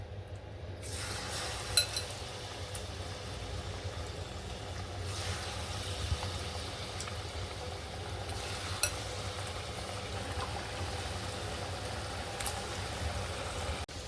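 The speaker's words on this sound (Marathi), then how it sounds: "आता तेलामध्ये आपण असे एक एक टाकून घेऊया।" Cauliflower florets for Gobi 65 are dropped into hot oil and fry with a steady, even sizzle that holds at one level throughout, with a low background hum and no talking.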